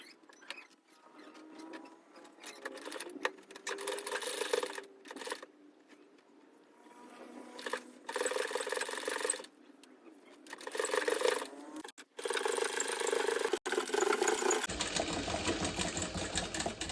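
A sewing machine stitching folded fabric in short bursts: its motor runs for a few seconds at a time, stops, then starts again, close by and fairly loud, with brief quiet gaps between runs.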